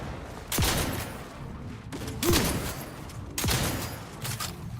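Three heavy shotgun blasts boom at roughly even intervals in The Outer Worlds, each followed by a ringing tail, over a continuous rumbling game background.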